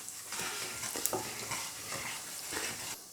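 Whole spices sizzle steadily in hot oil for a chicken curry, a close, continuous crackling hiss with a few brief stirring clatters and no talking.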